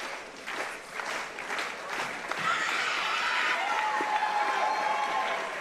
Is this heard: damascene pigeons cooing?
no